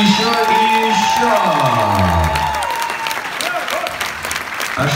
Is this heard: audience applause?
yes